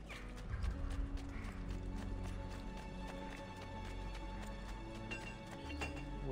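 A horse in the video game Assassin's Creed II, with steady clip-clop hooves and a whinny over a constant low background hum and a layer of game music.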